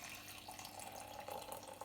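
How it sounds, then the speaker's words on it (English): Hot water pours steadily into a cup in a home kitchen, a continuous close splashing and trickling stream with no talk. "pour a little bit of hot water"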